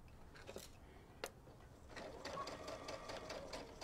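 A sewing machine stitches minky fabric for a Santa stocking in a short, close burst of rapid mechanical whirring, with a few light clicks before the stitching starts.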